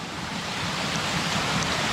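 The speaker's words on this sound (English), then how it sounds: "I just saw this cool little waterfall type deal." Small waterfall tumbling off-trail in New Hampshire's White Mountains, a steady, close broadband rush of falling water with no pauses.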